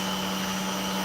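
A power drill, used on tough material compared to iron banding, running in a steady, loud, continuous whine with a strong constant hum throughout the short stretch.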